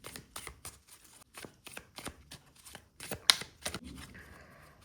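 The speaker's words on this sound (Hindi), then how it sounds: "shuffle the cards nicely" A tarot or oracle card deck is shuffled by hand, close and fairly quiet, giving a series of quick papery riffles and soft taps in an uneven rhythm.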